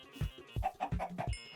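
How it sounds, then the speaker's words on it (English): Chickens in Minecraft give a few short, close clucks in quick succession, bred as food for parrots and bats, fairly quiet and without any voices. "breeding some chickens for the parrots and the bats"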